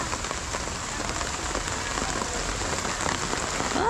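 Steady rain pours onto a surface nearby, a dense, even hiss of drops that holds at a constant loudness without a break.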